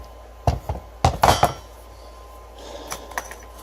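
A hammer taps a dowel into a Honda F20B engine block during a turbo build, giving a few sharp metallic knocks in a quick cluster followed by lighter faint clinks, close by with no talk.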